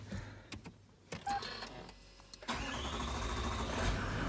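A Toyota Land Cruiser 200 series diesel engine cranks and catches, with clicks and short bursts before it settles into a steady, loud running rumble that holds to the end.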